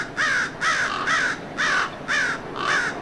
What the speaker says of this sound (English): Would you get that crow?